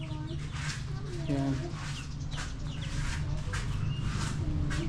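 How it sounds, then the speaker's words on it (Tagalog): Rhode Island Red chickens cluck and murmur in their coop in a steady, close chorus with scattered short calls, and someone speaks briefly over them. "Masayang masaya na yung manok natin."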